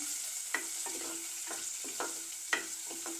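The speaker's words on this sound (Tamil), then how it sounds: "சின்ன வெங்காயமும் பெரிய வெங்காயமாக வெட்டி வச்சுக்கிறோம் அதையும் சேர்க்குறேன் சேர்த்து இதெல்லாம் நல்லா பொரியட்டும்" Shallots and sliced onions frying in oil in a clay pot for fish curry, a quiet steady sizzle broken by repeated rhythmic scrapes of a stirring spoon, close and clear.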